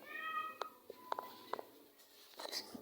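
A farm cat meows several times in short, separate calls, fairly close and clear, with a faint outdoor background.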